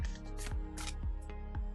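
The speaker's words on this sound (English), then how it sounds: "I'm going to shuffle and I only pick out jumpers, meaning I only pick out the cards that fall out of the deck" A deck of oracle cards being shuffled by hand, several quick riffling bursts with soft thumps between them, close and fairly quiet.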